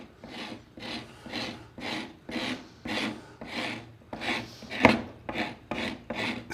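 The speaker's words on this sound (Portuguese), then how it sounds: "Se você ver que ele está arranhando a madeira e soltando farpas de madeira, e ela está ficando lisa, esse formão está super afiado." A sharp chisel scrapes peroba wood in about a dozen steady, rhythmic rasping strokes, close and fairly loud, with one sharper scratch partway through and no voices.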